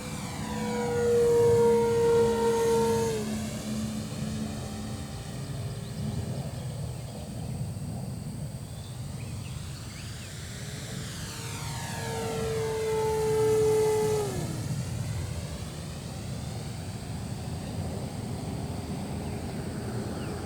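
An E-Flite Super Timber 1.7m RC airplane passes overhead twice, its electric motor whine rising and falling in pitch as it flies by and away, fairly faint against an open outdoor background.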